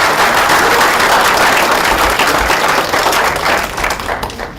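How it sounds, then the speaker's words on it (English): Audience applause for Bennett University at a university session and master class, a dense, loud round of clapping that holds steady and then begins to thin toward the end. "So please, applause for Bennett University."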